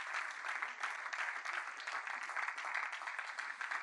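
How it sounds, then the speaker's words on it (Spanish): A church congregation claps vigorously, a dense, steady roar of many hands at strong, even loudness with no voices rising above it. "De un aplauso con violencia."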